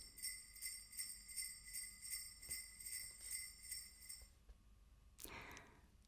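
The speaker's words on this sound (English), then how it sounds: "Did you say jingle bells, sleigh bells, anything like that?" Sleigh bells jingle in a steady shaking rhythm for a few seconds, then fade, followed by a brief bright rustle.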